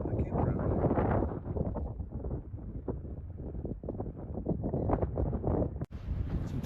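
Strong wind buffets the microphone at a Yellowstone campground within view of Fairy Falls, a steady low roaring rumble with gusts throughout and a sharp knock near the end.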